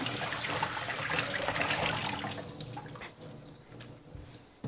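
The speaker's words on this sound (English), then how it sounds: "And you want to give it just a quick rinse." A steady rush of tap water rinses cooked macaroni in a strainer at the sink, loud and close at first, then easing to a softer trickle.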